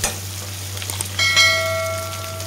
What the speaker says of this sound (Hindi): ट्रांसपेरेंट करने तक प्याज को फ्राई करेंगे बस।